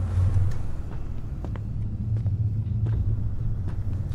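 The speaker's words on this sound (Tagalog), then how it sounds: "Parang naririnig yung sasakyan." A car engine idles and rumbles low and steady in the Water Delivery Horror game, a continuous drone, with faint clicks and ticks scattered over it.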